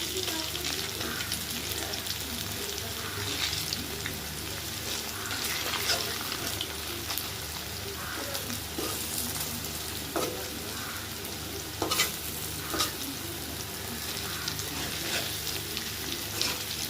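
Split chickpea dal fritters fry in a wok, a sustained close sizzle and crackle of hot oil with occasional spatula scrapes and taps as they are turned one by one, no voices.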